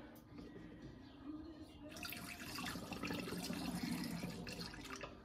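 Homemade sugar syrup poured through a funnel into a hummingbird feeder, a quiet trickle that swells after a couple of seconds into a steady, splashy stream of liquid.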